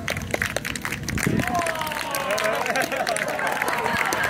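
Crowd noise and applause at an outdoor pro wrestling show in Ichihara, greeting a wrestler's entrance from the red corner; a broad, steady wash of clapping and murmur that rises after the first second and holds, with a wavering tone running through it.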